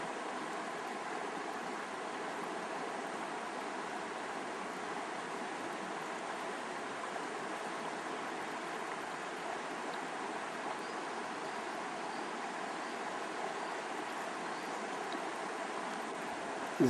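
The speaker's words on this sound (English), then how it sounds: "This is the Mackenzie River." Steady, even rush of the Mackenzie River flowing, continuous broadband hiss with no pauses, moderately loud and close, no voices.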